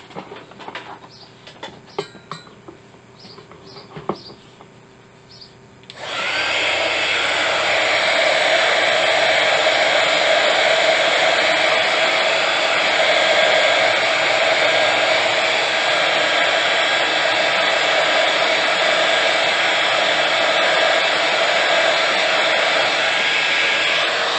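A hot air heat tool starts up after a few quiet seconds of small handling noises and then blasts steadily and loudly, drying a decorated craft insert with no break in its whoosh.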